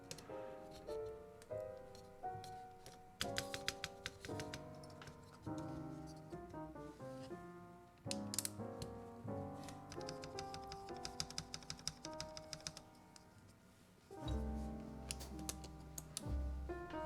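Someone types on a Frog TKL mechanical keyboard, producing a dense run of clicky keystrokes with varying rhythm under soft background music, close and moderately loud.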